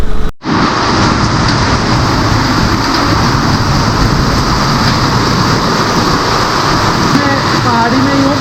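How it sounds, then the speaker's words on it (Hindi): Heavy rain pours steadily in hilly country, a dense, loud, unbroken roar of water that fills the whole clip, with faint traces of a voice near the end. "पहाड़ी में ही हूँ, बहुत तेज़ बारिश पड़ रही है"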